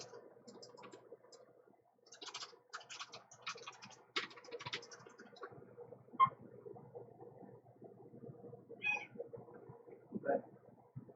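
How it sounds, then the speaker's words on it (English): A squeaky pet cat meows insistently in a few short cries amid quiet clicking and light handling noises indoors during nail stamping, with faint talk nearby. "That was my baby cat. Did you hear her?"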